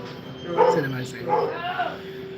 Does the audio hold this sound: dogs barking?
yes